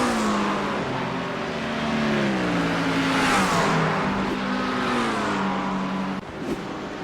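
GT3 race cars in a racing video game at Daytona Road course, several engines droning and shifting pitch as they pass close by in a steady roaring stream, with no speech.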